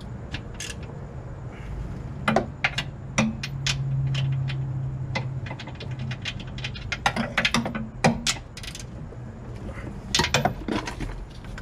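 Ratchet wrench tightening nuts and bolts on a car during a driveline check, giving bursts of sharp clicking strokes in irregular clusters over a low steady hum, fairly close and moderately loud, with no talk.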